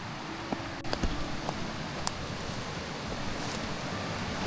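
A river near a campground rushes in a steady, broadband wash of moving water, continuous and moderately close, with a few faint knocks and rustles on top.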